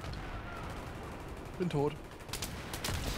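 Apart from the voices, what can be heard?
sniper rifle gunfire in the video game Battlefield 3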